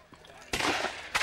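Cannon and gunfire at a multi-period historical battle reenactment, with French guns among them. A muffled thump is followed by two loud, sharp reports close together, the second short and punchy.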